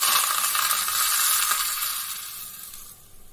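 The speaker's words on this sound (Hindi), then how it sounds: "ये तेल हमारा गरम हो चुका है, और अब इसको हम अपने मिक्सचर में डालते हैं।" Hot oil poured over a chutney mixture sizzles with a bright, steady hiss that fades toward the end, close and alone with no talk.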